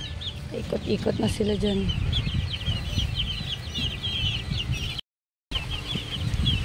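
Chickens cluck and chatter in a small backyard coop, a steady nearby flock sound under a voice, with a brief cut to silence partway through.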